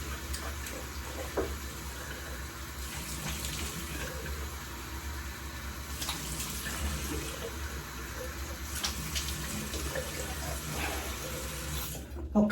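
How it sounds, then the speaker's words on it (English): Hot water runs from a bathroom tap and is splashed onto the face before a wet shave, a continuous close rush of water with irregular splashes, no talking. "We're going to splash some hot water on my face"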